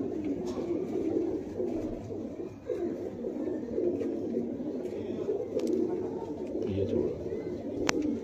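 Domestic pigeons, including a prized female, coo in low continuous murmuring rolls close by, while someone talks briefly over them.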